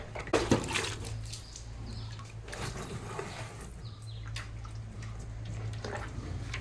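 A cow drinking water makes soft slurping and lapping sounds with occasional drips and splashes, over a low steady hum, fairly close and continuous.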